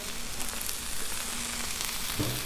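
Potatoes and onions frying in oil on a Blackstone griddle, a constant close hiss and crackle with a brief scrape near the end.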